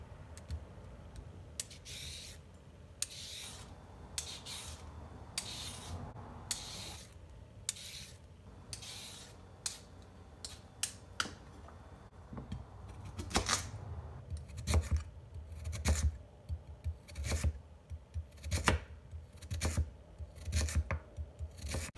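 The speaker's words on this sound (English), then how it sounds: "I let you guys enjoy a little bit of the chopping." Knife chopping carrots into matchstick and round pieces on a cutting board, a long run of crisp, quiet taps, irregular at first and then quicker and steadier, close up with no talk.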